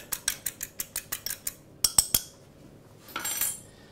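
A whisk or fork clatters rapidly against a bowl while an egg is beaten for egg wash, with a run of quick, evenly spaced clicks, a short pause, then a softer scraping burst.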